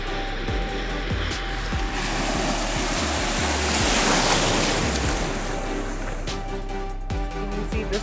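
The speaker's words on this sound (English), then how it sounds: "But I keep getting hit with waves." Ocean waves breaking and washing around a wader on the shore at Honeymoon Island, a loud continuous surf roar with a swell building in the middle, close and enveloping.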